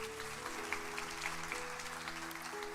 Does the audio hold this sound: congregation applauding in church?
yes